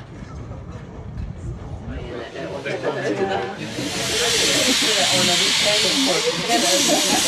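A steam locomotive at Brechin vents a loud, sustained hiss of steam that swells in after a few seconds and holds steady, with rumbling and knocking of the train beneath and some voices earlier on.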